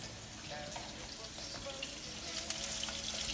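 Veal shanks for osso buco sear in a pot with a steady bright sizzle and crackle that slowly grows louder, close up, without any voice.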